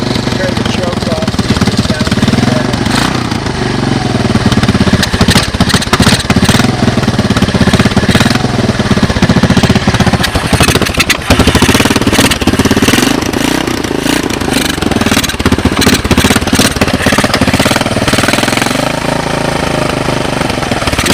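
A 1986 Honda TRX200SX ATV with GY6 12VDC ignition idles loud and close on choke after a cold start, a rough, rapid single-cylinder chatter with uneven pulses and brief dips, steady throughout.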